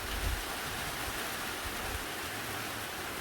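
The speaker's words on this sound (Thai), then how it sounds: "ทั้งลมทั้งฝน" Steady rain and wind during a nighttime storm with the power out, a dense even hiss of falling water with low gusty rumbles, continuous and close throughout.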